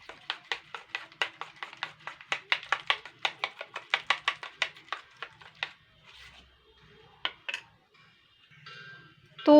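Batter for pumpkin-flower fritters being beaten in a bowl, with quick rhythmic tapping strokes close by for about six seconds, then a few scattered taps and scrapes before a brief louder knock. No one speaks.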